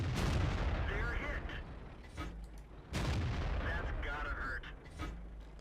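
Tank cannon fire in World of Tanks, two heavy booming shots about three seconds apart that sit in a thick, low rumbling background of engine noise and game effects.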